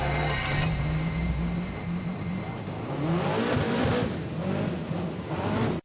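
A dune buggy engine roars steadily as it climbs a sand dune, a loud, continuous drone with rising revs and gritty rumble throughout, no speech over it.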